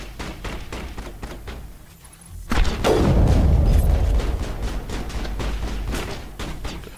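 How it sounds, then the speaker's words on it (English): Enemy gunfire aimed at the player in the Mass Effect video game, a loud booming burst of shots and impacts that swells after a quieter stretch of clicking mechanisms, dense and close, with no talk. "I'm getting shot from an invisible foe"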